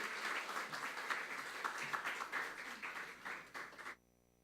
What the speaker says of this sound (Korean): 두 분 나오실 때 여러분 박수로 맞이해 주시기 바랍니다